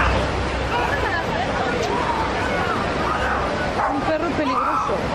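A dog that attacked a reporter barks and yips loudly close by on a neighbourhood street, its sharp calls rising over a constant murmur of people talking in the background.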